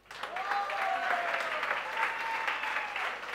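Audience applause in a CA exam lecture hall, a steady mass of clapping that rises quickly and holds at a moderate level throughout, with faint voices audible underneath.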